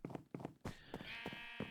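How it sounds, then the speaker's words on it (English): Sheep bleating in a Minecraft wool farm, with a few short bleats, including one longer drawn-out call, heard close up inside the game. "Obviously, we got sheep behind the walls just getting sheared."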